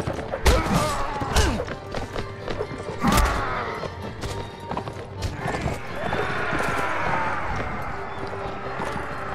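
Horse hooves galloping in rapid clip-clop rhythm with a loud neigh, thuds and clashing noise close by in a busy Mount & Blade: Warband battle scene.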